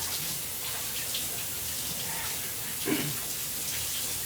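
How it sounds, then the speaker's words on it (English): Running tap water pours steadily while something is rinsed off during rainbow cake preparation, a continuous, even wash of splashing with a brief louder splash near the end. "Rinse this off one last time."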